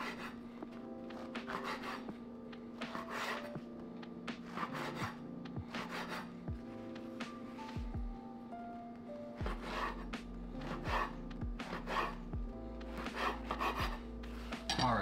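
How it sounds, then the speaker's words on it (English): A knife cuts homemade soft pretzels, made from Alton Brown's recipe, into roughly 1-inch slices for chocolate pretzel bread pudding, producing repeated close rasping strokes in an irregular rhythm with no talking. "I'm gonna cut these up into about 1-inch slices."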